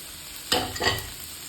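Green chillies and curry leaves drop into hot oil in a pan while onions cook, giving two short bursts of sizzling and spattering close by before the fry settles back to a low hiss.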